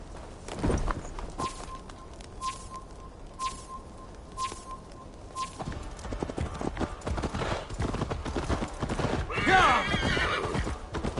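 Steady clip-clop of horse hooves in Assassin's Creed Valhalla runs throughout, with a whinny, birdsong and a sustained tone, plus a voice talking over part of it.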